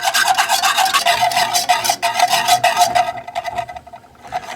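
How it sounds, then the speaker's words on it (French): A whisk stirs flour into water for homemade paint, a fast rhythmic scraping and swishing inside the bowl that slows and fades toward the end. "je fais tomber ma farine et je remue avec un fouet pour éviter d'avoir des grumeaux"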